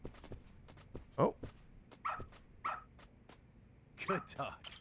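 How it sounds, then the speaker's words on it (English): A dog in the Lost Judgment video game gives several short barks and yips spaced across a few seconds, close and fairly clear, with quiet game ambience between them. "Good dog. Very good dog."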